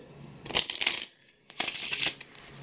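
Bicycle Shadow Master playing cards riffle-shuffled in two close, crisp bursts of rapid fluttering card snaps separated by a short pause.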